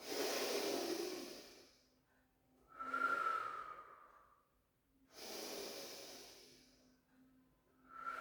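Slow, deep breaths during a pilates exercise, two long breathy inhales alternating with exhales, close and soft, with no talking.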